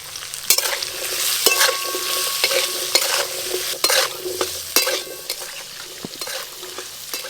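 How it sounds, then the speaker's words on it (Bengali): Potatoes frying in hot oil with salt and turmeric, a bright sizzle punctuated by repeated sharp clinks and scrapes of a metal spatula against the pan at an irregular pace. "তেল গরম হয়ে গেছে, প্রথমে আমি বাঁধাকপির জন্য আলুগুলো ভেজে নেব"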